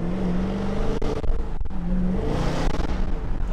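A Dodge Charger SRT Hellcat Widebody engine revs up close, a loud, rumbling roar that rises and falls in a few throttle blips.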